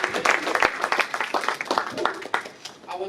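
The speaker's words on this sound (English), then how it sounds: "let's just give one more round of applause" A crowd at a high school varsity baseball seniors night claps in a loose, uneven round of applause, with voices talking and cheering over it.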